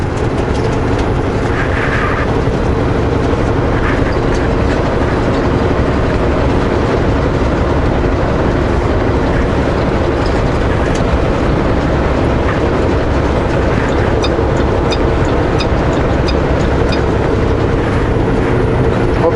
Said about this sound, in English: definitely heard the rumbling of a train